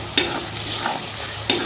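Turmeric, red chili, coriander powder and garam masala stirred into fenugreek greens in a pan, two distinct scraping strokes over a steady sizzle, close up and without speech.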